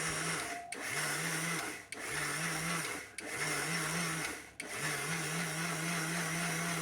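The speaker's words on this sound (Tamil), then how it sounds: "அரிசி அரைக்கிற டைமுக்கு பல்ஸ் முறையில் அரைச்சி எடுத்துக்கோங்க" A mixer grinder grinding rice for coconut dosa batter runs in pulse mode, with a steady motor whine cut by short pauses in five bursts, loud and close.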